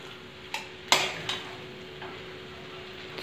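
Chow mein being stirred with sauces in a pan, a few scraping and clinking utensil strokes over a faint steady sizzle, close and moderately loud, with no voices.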